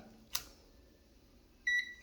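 A sharp click, then a short electronic beep tone from an infrared sensor buzzer a moment later, near and clear in a quiet room.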